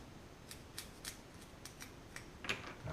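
Scissors making several crisp snips in a row during assembly of an OpenPNP pick-and-place machine, close and clear in a quiet room with no talking.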